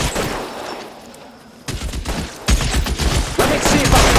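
Bursts of gunfire from the video game L.A. Noire, with crackling volleys of shots coming in waves that grow louder toward the end, close and harsh.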